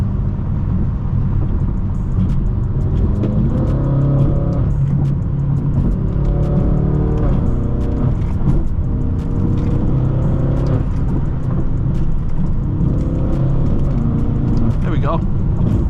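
A Stage 2 BMW M6 tuned to 800 hp accelerates hard through highway traffic, its engine note climbing and surging in repeated pulls, with a steady road and wind roar running underneath the whole time.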